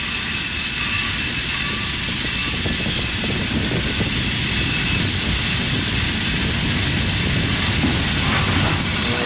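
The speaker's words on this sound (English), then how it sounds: "464 continues its reverse move. Yeah, they're totally backing the train up." CSX freight train Q 464 backing up, a loud steady rumble of rolling railcars with broad continuous noise and faint wheel squeal, sustained throughout with no voices.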